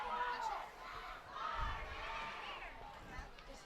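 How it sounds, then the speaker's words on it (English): Student section cheering at an 8th grade football game, a distant boisterous crowd of shouts and yells rising and falling over a few seconds, fairly faint. "Our Armand crowd is loud down there."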